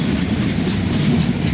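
A 4000 series locomotive train rolls past close by, a dense steady rumble of wheels and cars with a light rhythmic clatter, with no voices over it.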